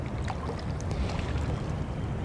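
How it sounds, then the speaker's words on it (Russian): River water by a riverbank, a continuous close, rushing, splashing wash with faint bright drips, steady throughout with no talk. "Звук воды."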